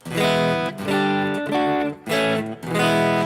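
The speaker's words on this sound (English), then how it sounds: "It's an overdrive sound where I've turned the volume down." Sustained electric guitar chords with a mild overdriven edge, the volume turned down, played at moderate volume in a slow sequence of ringing strums.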